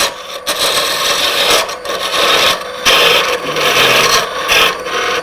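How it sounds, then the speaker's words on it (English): A parting tool cuts into wood turning on a lathe to form a tenon for a sphere, giving loud rough scraping in repeated strokes separated by short pauses. "Come back with our parting tool."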